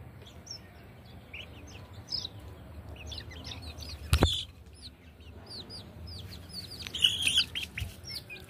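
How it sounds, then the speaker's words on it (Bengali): Broiler and tiger-breed chicks and chickens feed on the ground, with scattered high peeping chirps and soft clucks over a low background hum and one sharp knock midway. "কত সুন্দর টাইগার মুরগির বাচ্চা।"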